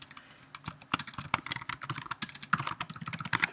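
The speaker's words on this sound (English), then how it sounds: "type in the correct password" Rapid keystrokes on a computer keyboard as a password is entered, a close, quiet, irregular burst of clicks and taps.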